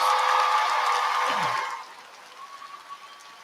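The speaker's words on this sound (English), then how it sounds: "Let's give him a big round of applause." Applause at a law school commencement ceremony for the chancellor, a broad wash of clapping and crowd noise that fades out after under two seconds, leaving a quiet hall.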